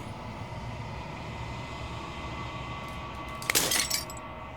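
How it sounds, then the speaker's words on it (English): Glass shattering in a horror video game, a sudden bright crash and tinkling burst near the end, rising briefly over a steady low droning ambience. "As the final fragment of glass shatters, you see yourself with newfound clarity."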